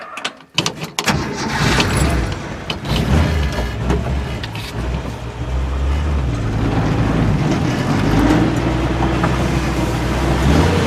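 An old Ford Falcon that has been sitting turns over and catches with a brief cranking burst, then settles into a loud, steady engine rumble that runs on alone, close by.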